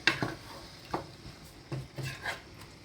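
Rice and vegetables are stirred in a pot, producing a few soft scraping strokes and light knocks of the utensil against the pot, close and irregular.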